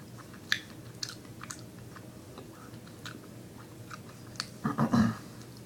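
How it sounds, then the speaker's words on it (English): A Trader Joe's Kona coffee chocolate truffle is bitten and chewed close to the mic, with sharp crisp crunches spaced through the chewing and a louder grinding burst near the end. "I'm going to just bite into it and just give it a good crunch and see what happens."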